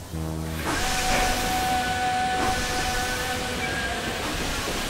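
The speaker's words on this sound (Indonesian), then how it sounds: "Kereta api masuk spur tertentu itu karena diatur juru sinyal, Naifar." A train rolls through on a railway line, a steady broadband rumble and hiss with a sustained tonal whine over it, loud and continuous after a brief low hum at the start.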